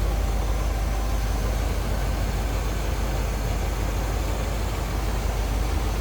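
A 1970 Chevrolet Corvette convertible engine idles in a steady, even rumble, with a constant low drone and no pauses or voices.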